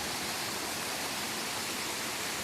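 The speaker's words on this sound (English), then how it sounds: "comes rushing down from a little stream" Water rushes steadily down a small jungle stream, a dense continuous broadband hiss that stays even and close with no pauses or voices.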